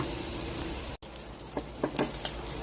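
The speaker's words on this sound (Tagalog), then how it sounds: "Pagkatapos ilalagay na natin ang giniling." Ground meat sautés in a pan with ginger, garlic and onion, giving a soft continuous sizzle broken by a brief dropout and a few light utensil scrapes as it is stirred.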